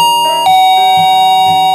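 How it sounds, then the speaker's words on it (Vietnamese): A doorbell rings inside the mobile game Play Together, a loud, clear electronic chime whose tones repeat in a steady sequence, with nothing else heard. "Ủa bấm chuông mà không có ai ra mở cửa luôn ta."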